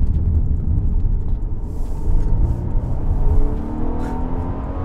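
A 2020 Mercedes-Benz GLC 300 Coupé AMG Line accelerates on a test road, a steady low engine rumble with a gently rising tone heard from inside the cabin, faint road noise underneath.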